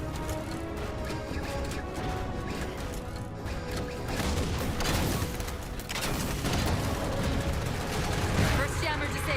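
Gunfire rattles in Halo 4 as jammers are shot down, with dense, overlapping bursts under game music and voices throughout, growing busier in the second half.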